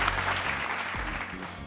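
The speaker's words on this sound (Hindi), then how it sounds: "आइए बहुत सारी तालियां" Steady applause from a talk show studio audience, a fairly loud wash of clapping that tapers slightly toward the end.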